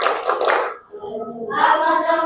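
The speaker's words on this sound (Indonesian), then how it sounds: "Boleh sambil tepuk tangan." Children and adults clap their hands in rhythm along with a classroom song about gotong royong, a steady burst of clapping that dips briefly and then resumes under singing voices.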